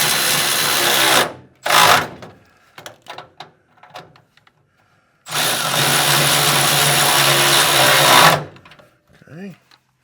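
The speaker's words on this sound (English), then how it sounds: "I'm gonna run these up with the power ratchet" Power ratchet running up caster bolts on a US General Series 3 tool cart, loud close bursts of whirring: two short ones, then one steady run of about three seconds, with small clicks and a brief voice between them.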